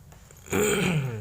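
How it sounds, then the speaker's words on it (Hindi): A single rough, throaty cough or throat-clear bursts out after a brief quiet moment, close and fairly loud. "खांसी हो गई है ना तुम्हें?"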